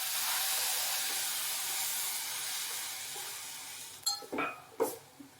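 Milk poured into grated coconut fried in a hot pan gives a loud, steady hiss that slowly fades, followed by a few sharp clinks of a spoon stirring against the pan.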